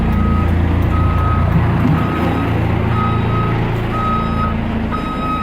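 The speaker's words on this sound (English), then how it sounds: "And yeah, we got backup beepers now." A backup beeper on a Blue Bird bus sounds a loud, steady series of evenly spaced tones over a constant low engine rumble, close by.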